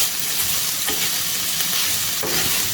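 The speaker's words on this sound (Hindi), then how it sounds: "हमारा तवा फ्राई गोश्त जो है, फ्राई गोश्त ऑन तवा जो है" Mutton fries on a tawa with a steady, close sizzle throughout, broken by a couple of scraping stirs of a spatula across the hot pan.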